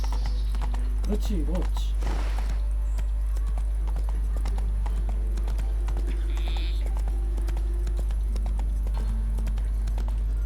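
The horse Roach gallops in The Witcher 3, its steady hoofbeats repeating under a loud low hum, while a voice speaks briefly early on.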